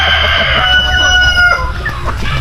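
A rooster crows loudly and close among a large flock of farm chickens, its drawn-out call standing above a continuous chorus of clucking, with no talking.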